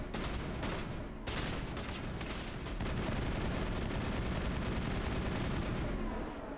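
Dense, continuous gunfire and explosions from the video game Mass Effect roar loudly throughout, a sustained barrage with a brief dip near the start.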